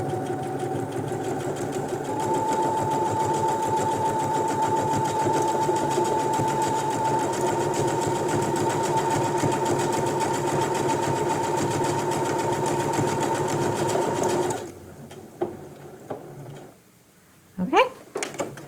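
A sewing machine stitches a buttonhole on a pair of pants: a loud, close, steady whirring hum that runs unbroken for about fifteen seconds, then stops and leaves a few clicks and handling noises.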